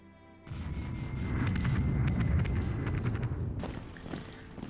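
Bombing in the WarPlan strategy game, a deep rumbling roar of explosions that swells in suddenly and holds for several seconds, then fades into scattered lighter impacts.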